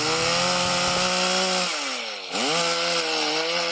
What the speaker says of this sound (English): Thursday morning brought with it the sound of chainsaws.